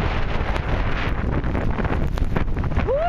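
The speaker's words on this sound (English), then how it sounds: "Can you hear that wind? And we are walking straight into it." Strong Hurricane Irene winds roar and buffet the microphone outdoors near a road lined with trees, a loud, continuous rush with gusting surges and no speech.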